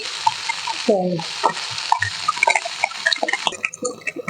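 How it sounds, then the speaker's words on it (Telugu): Ajwain leaf chutney mixture stirred in a pan, a spoon scraping and clinking in quick irregular strokes over a soft sizzle, close and fairly loud, with a brief voice in the middle. "ఇలా వేసుకొని కలయి పెట్టుకోవాలి ఇప్పుడు కల పెట్టుకోవాలి"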